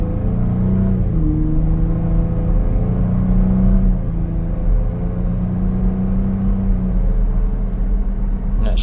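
A 2023 Ford Bronco Raptor in sport mode pulls through its gears, the engine drone stepping down smoothly at each shift, heard as a loud continuous rumble from inside the cabin with no one speaking.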